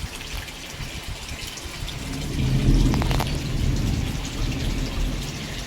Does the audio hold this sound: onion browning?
no